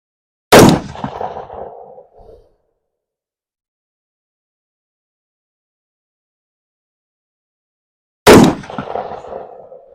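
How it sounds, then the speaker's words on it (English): A Geissele rifle fires Winchester green and white box M855 NATO rounds, two loud, sharp single shots about eight seconds apart, each trailing off in a short echo, with no talk. "we will just see what we're able to obtain with shooting out of this geissele rifle"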